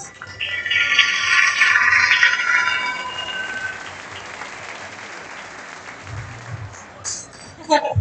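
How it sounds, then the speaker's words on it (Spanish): Loud, sustained applause from a crowd at the closing ceremony of the Kayak Surf Worlds in Argentina, swelling early and then thinning into a lighter patter with some talk underneath. "Fuerte el aplauso"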